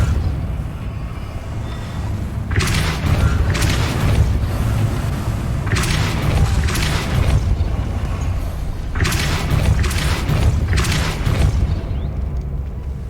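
A Depulso spell cast in the Hogwarts Legacy video game, heard as a series of loud whooshing blasts in pairs over a low rumbling backdrop, with several bursts spaced a few seconds apart.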